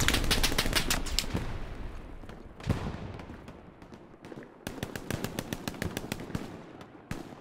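A Tommy gun fires in the World War II shooter Hell Let Loose, with rapid bursts of sharp cracks at a moderate distance, broken by a pause and a louder thump before another quick string of shots.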